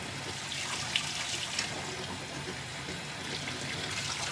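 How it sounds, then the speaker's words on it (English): Tap running into a sink, filling it with warm water for washing wigs; a steady, close wash of flowing water continues alone throughout. "I fill it up with half hot water, and then I add cold water, a lot of it."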